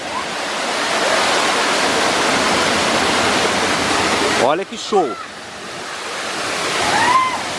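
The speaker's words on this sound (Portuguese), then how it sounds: "E eu vou mostrar pra vocês agora como que é essa cachoeira." Rushing water of a little-known waterfall near Brotas, a steady broadband roar filling the whole clip, with a person briefly exclaiming over it partway through.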